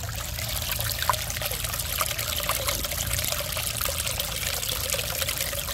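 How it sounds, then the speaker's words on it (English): A small Zen garden fountain trickles and pours water in a steady, close, continuous babble with faint splashes, heard on its own without talk. "I will let you hear some of the tranquil babbling brook sounds."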